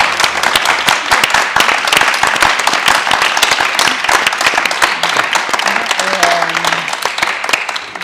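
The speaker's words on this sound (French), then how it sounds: "Petit applaudissement." Steady, dense applause from a seated audience fills the room, close and loud, continuing evenly for several seconds while a few faint voices and a brief tonal sound come through near the end.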